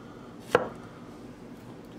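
A single sharp knife chop through a jalapeno on a cutting board in a kitchen, one crisp close impact followed by quiet room tone.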